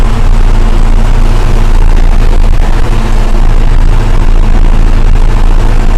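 A KhTZ tractor engine runs steadily and loud throughout, a dense low rumble with a constant drone and no pauses.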